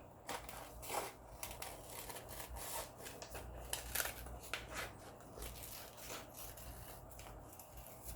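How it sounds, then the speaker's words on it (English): Scissors cut out a paper donut picture in soft, faint snips, with paper rustling and rubbing between them at close range. No one speaks. "Now I'm going to cut it out farther than actually to the donut."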